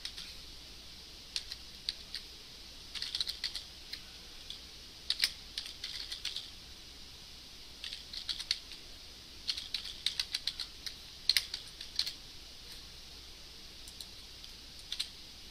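Typing on a computer keyboard during a client/server scripting class, scattered bursts of crisp key clicks with pauses between, close and fairly faint over quiet room tone, no speech.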